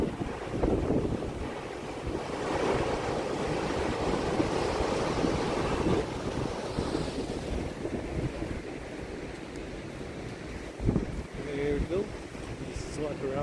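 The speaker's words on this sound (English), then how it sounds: "just enjoy the Pacific Ocean" Pacific Ocean waves on the Oregon coast at Lincoln City wash and roll steadily while strong wind buffets the microphone, with a brief louder splash near the end.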